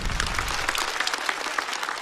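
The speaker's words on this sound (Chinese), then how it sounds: "再次掌声送给高涵" Studio audience applauding comedian Gao Han at a stand-up comedy show, a steady dense wash of clapping that stays loud and even for the whole stretch, with no voices over it.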